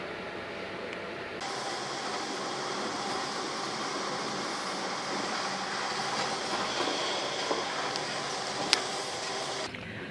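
An Italian train runs steadily with a continuous broad rumble and rail noise, a faint squeal near the end, no voices.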